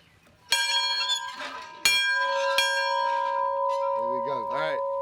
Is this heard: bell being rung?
yes